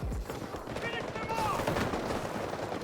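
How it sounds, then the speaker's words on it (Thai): Rapid machine gun fire in the video game Delta Force, a dense, continuous burst of shots that fills the whole stretch with voices mixed in. "บอกแล้วเล่นปืนกลเป็นลูกซอง"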